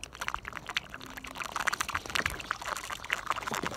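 Water poured into the drain channel of a 2014 Nissan Sentra SR to test a clogged drain, a steady splashing, trickling flow, close and continuous throughout.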